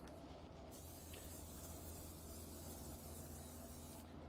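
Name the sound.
olive oil spray on sweet potatoes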